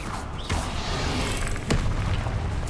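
Spell blasts from Bombarda and Confringo in Hogwarts Legacy, two sharp booming bursts about a second apart over a steady dense rumble of game ambience.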